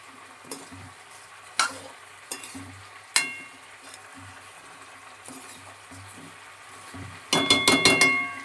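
Rice for pulao is stirred and lightly fried in ghee and oil, with a soft sizzle underneath and scattered sharp clinks of a spoon against the pan, ending in a quick cluster of rapid scraping knocks.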